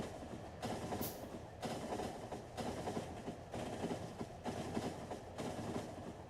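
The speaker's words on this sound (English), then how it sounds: "I might have to catch the train again once it loops back around" A train rolls past in the factory-building game Factorio, a steady rumbling rail clatter with several surging segments, fairly quiet and alone.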